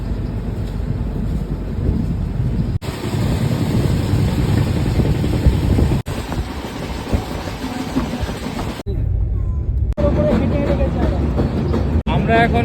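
A train rolls across a bridge over the Godavari River in rain, a steady low rumble and clatter interrupted by sharp breaks and a short quieter stretch, with wind buffeting the microphone.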